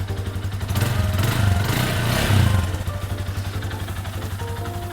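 A yellow 2016 GPX CR5 200cc motorcycle idling nearby. It gives a steady, pulsing putter, briefly rises into a louder blip of revs, and then settles back to an even idle.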